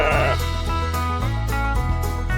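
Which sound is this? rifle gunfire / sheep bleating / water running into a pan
sheep bleating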